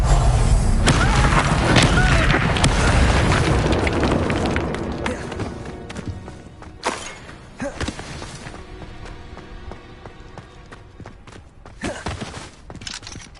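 Spell explosions from the Confringo curse in Hogwarts Legacy on PS5, loud booming bursts and crashes in the opening seconds, then scattered thuds and impacts fading under game sounds.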